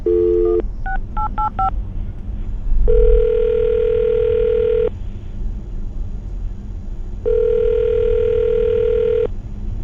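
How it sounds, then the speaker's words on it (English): A quick series of touch-tone dialing beeps, followed by two long ringing tones separated by a pause. "I'm going to dial the phone number right now."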